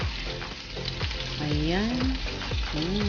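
Hotdog steak sizzles and fries steadily in a pan, loud and close, with scraping stir strokes repeating every half second or so. No one speaks over it.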